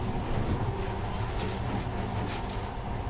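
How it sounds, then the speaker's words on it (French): A monorail train running in a video game, a continuous rumbling roll with faint rhythmic clatter that stays steady and fairly loud throughout, with no speech over it. "Maintenant, ce monorail a l'air magique, pas vrai?"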